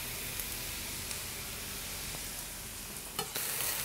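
Carrots and onions, with a finely chopped garlic clove, fry in a pan for Siberian borscht, giving a steady close sizzle with faint stirring and a brief clatter near the end.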